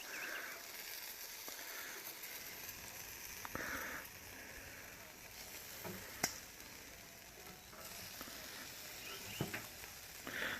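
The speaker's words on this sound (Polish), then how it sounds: "Słyszycie to ładnie skwierczy." Shashlik skewers sizzle on a charcoal grill in a garden, a soft continuous crackle and hiss with occasional sharper pops and faint ticks, heard close but quiet.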